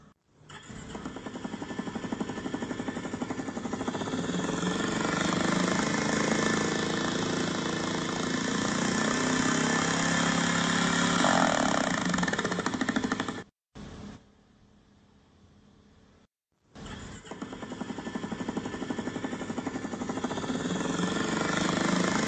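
A Hero Mavrick 440 motorcycle engine idles close by with a steady, loud, even thrum, briefly cut off by a short quiet gap before the same idle resumes.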